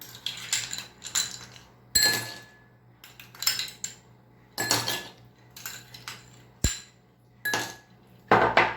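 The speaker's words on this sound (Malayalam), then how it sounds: "തണുപ്പൊക്കെ നന്നായിട്ട് വേണമെന്നുള്ളവർക്ക് ഐസ് ക്യൂബ് ഇട്ട് കൊടുക്കാം" Ice cubes clink and rattle into a glass of beetroot juice in a series of sharp, bright knocks, irregularly spaced and close up, with no talking.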